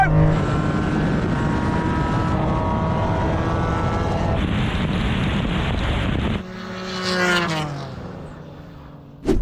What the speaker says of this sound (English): Oh, here comes the R34 now!